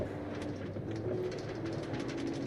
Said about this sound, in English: And now we're riding the subway.